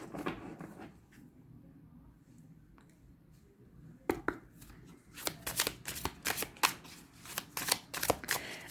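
Médéors oracle cards are shuffled for a pyramid draw, starting with a few soft isolated riffles and then building into a rapid, crisp flurry of close card flutters and slaps.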